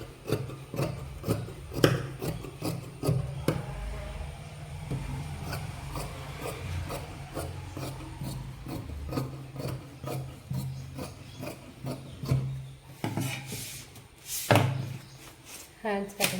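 Fabric being cut by hand with scissors for a maggam work blouse, giving repeated close crisp snips and rubbing with soft thumps of cloth on a table, no talk.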